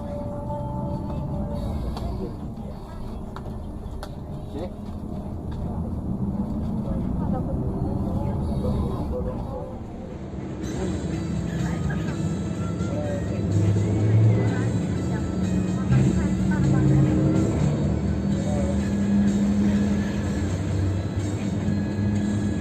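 An Indonesian PO Gunung Mulia night bus pulls away, its engine rumbling low and steady inside the cabin and growing louder as it gets moving, with passengers talking throughout.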